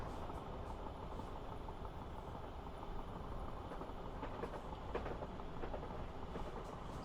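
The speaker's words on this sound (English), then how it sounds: "Another service coming. That's another Woking and Guildford service." A Woking and Guildford passenger train on the Portsmouth Direct Line, heard as a steady, moderately distant rail rumble with faint wheel clatter throughout and no talking.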